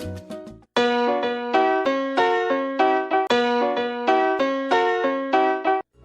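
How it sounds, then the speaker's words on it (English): A piano plays a salsa montuno pattern in 2-3 clave direction: bright, repeating syncopated chords and octaves in a steady looping rhythm, close and clear, after a short different lead-in at the start. "then the full montuno pattern would sound like this."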